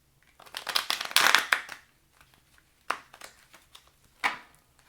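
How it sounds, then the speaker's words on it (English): Tarot cards being shuffled by hand: a dense flurry of riffling snaps in the first two seconds, then a few separate crisp shuffles and pauses, close and clear in a quiet room. "Get a good shuffle before I cut."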